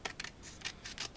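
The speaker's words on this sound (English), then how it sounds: "you want to take scissors and just cut very carefully" Scissors snip through paper in several quick, close cuts, short crisp bursts in an uneven rhythm.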